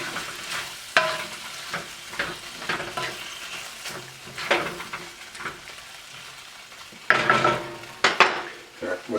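Beijing beef being stirred with its sauce in a pan, loud irregular scrapes and clacks of a utensil against the pan over a softer sizzle, with bursts of heavier stirring toward the end.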